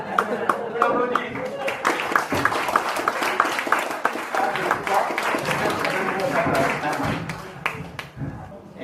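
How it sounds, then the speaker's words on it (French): Audience at a stage hypnosis show claps in a lively, sustained round of applause with sharp individual claps, lasting several seconds and fading slightly near the end, with voices underneath. "On applaudit."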